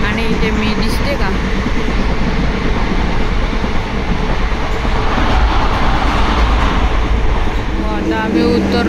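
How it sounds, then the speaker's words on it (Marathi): Train at Karad station with a continuous loud rolling rumble and faint clatter of wheels, steady throughout, while people talk nearby over the noise. "ही होती आमची ट्रेन."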